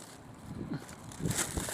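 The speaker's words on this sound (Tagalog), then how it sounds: "Ang lakas pa naman ng hangin." Strong wind buffets the microphone in a steady, rough rumble with gusty surges, loud and continuous throughout, outdoors while rummaging through a dumpster.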